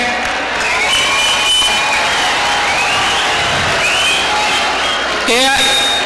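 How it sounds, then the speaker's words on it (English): Steady applause from a crowd fills the whole stretch, with a voice briefly audible near the end. "we should also give an applause to especially these volunteers"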